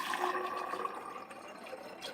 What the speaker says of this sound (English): Let's add some distilled water.